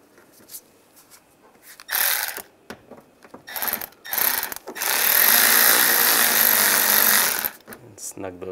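A hand ratchet or power driver snugs down the radiator screws on a 1999–2005 Volkswagen Jetta, with short clicking bursts followed by a longer loud whirring run, close and alone without talking.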